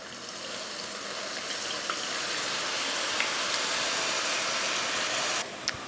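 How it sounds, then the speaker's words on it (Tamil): Tamarind water is poured into sizzling sardine fish curry paste in a pan. It makes a loud, broad hiss and bubbling sizzle that swells and holds steady, then cuts off abruptly near the end, with no voices. "அந்த புளி தண்ணியை சேர்த்துக்கிறேன்."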